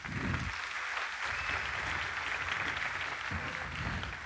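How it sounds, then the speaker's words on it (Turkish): A concert audience at a Turkish folk music performance gives the guests a big round of applause, a continuous, dense roar of many clapping hands that stays strong and steady, with a few low vocal sounds at the start and near the end. "Efendim misafirlerimize öncelikle kocaman bir alkış alabilir miyiz?"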